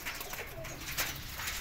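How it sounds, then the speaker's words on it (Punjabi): Salala pigeons coo softly and briefly, a faint low murmuring call in a quiet setting. "ਐ ਵੀ ਸਲਾਲਾ ਕਬੂਤਰ ਹੈ ਬੜਾ ਹੀ ਲਾਜਵਾਬ ਕਬੂਤਰ ਹੈ"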